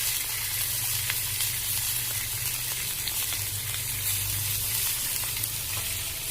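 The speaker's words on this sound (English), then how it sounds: "I'll brown it on this side" A whole chicken browning in a pan gives off a steady, dense sizzle with a low rumbling undertone, even and continuous throughout with no voices.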